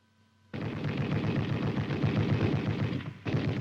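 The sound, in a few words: 7.62mm M73 tank machine gun firing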